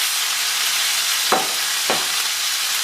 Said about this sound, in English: I'm just tossing the peppers in the oil to get them coated